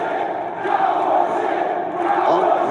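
Wrestling crowd at AEW Rampage roaring and cheering in a steady, swelling wash of voices, filling the arena at close range without a break.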